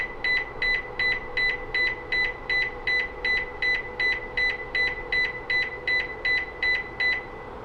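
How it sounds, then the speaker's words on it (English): A Lexus NX buzzer sounded from the remote app gives a long series of evenly spaced, sharp electronic beeps, about two and a half per second, loud and regular over a low hum. "and you'll get 20 beeps of the buzzer."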